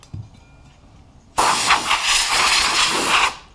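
A loud, steady hiss of compressed air from an air hose blasts onto a saw blade for about two seconds after a quiet start, then cuts off abruptly.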